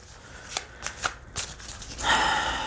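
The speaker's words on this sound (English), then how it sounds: "So again, these have been thoroughly shuffled. This is the Santa Muerte deck." A Santa Muerte tarot deck is shuffled in a few quick riffling bursts, then a longer rustling shuffle near the end, close and fairly quiet.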